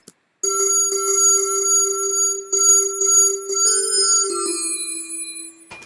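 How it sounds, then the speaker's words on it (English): A bright bell-crystal synth patch plays a sustained chiming tone that rings like a telephone, with shimmering repeated strikes and a few higher notes layered in near the end before it cuts off. "There's this little, it's called bell crystal, this like ringing sound."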